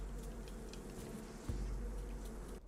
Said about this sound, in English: Oh, they're bees.